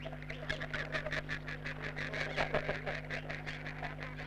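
Grey teal ducks call at Cullens Lake, a Victorian inland wetland, with a busy overlapping chorus of rapid, scratchy quacks and chatter that carries steadily over a low constant hum.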